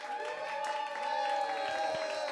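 A crowd at an open music session claps and cheers for a performer in a steady, full burst of applause with a few voices mixed in.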